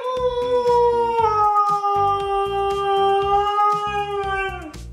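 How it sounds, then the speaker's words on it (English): A husky dog howls and 'talks' in long, wavering tonal yowls, rising and bending across several drawn-out phrases with a steady rhythmic thumping beneath, loud and close with no speech. "Ever heard a husky talk?"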